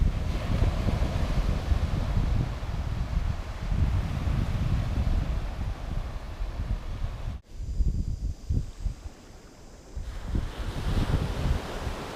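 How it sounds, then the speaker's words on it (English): Ocean waves wash onto a beach in a steady, rushing roar with gusty wind buffeting the microphone, briefly dropping away before the surf noise swells back up. "Just something about the rhythmic sound of the waves, one after another."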